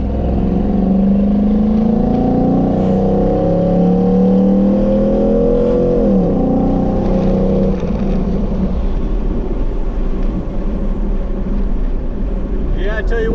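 A loud Chevy delivery truck with an LS engine swap, heard from on board as the V8 revs and accelerates through rising pitch sweeps, with a steady roar and road rumble throughout.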